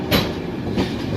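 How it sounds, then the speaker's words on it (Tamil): The Mumbai-Howrah Gitanjali Express passing on the tracks, a loud nearby rumble with two sharp wheel clacks over rail joints a little over half a second apart, no talking. "இப்போ வந்துட்டு இருக்கிறது ரொம்ப முக்கியமான ஒரு மும்பை ஹவுரா ட்ரெயின், கீதாஞ்சலி எக்ஸ்பிரஸ்."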